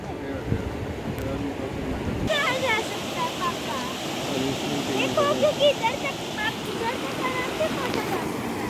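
Fast-flowing monsoon water roars at a waterfall near Pune, a loud, constant rushing wash with rumbling wind. Scattered high bird chirps rise above it partway through.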